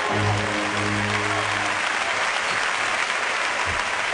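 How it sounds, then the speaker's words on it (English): Theatre audience applauding a volunteer during a David Copperfield illusion show, dense loud clapping filling the hall, with a brief low voice or tone at the start beneath it. "Give Jonathan a big round of applause"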